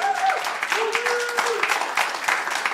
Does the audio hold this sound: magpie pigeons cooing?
no